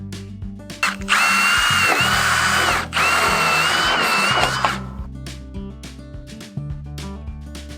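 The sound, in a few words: power drill drilling out pop rivets on gutter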